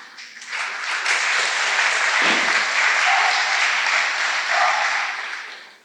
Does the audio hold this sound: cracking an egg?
no